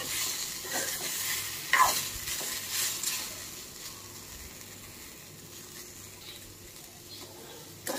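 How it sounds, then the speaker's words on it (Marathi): A tomato roasts in a pan for Kolhapuri misal, giving a steady close sizzle. A brief scrape of stirring comes early, then the hiss settles to an even, quieter frying. "यामध्ये मी टोमॅटो घातलेला आहे, एक टोमॅटो व्यवस्थित भाजून घेऊया।"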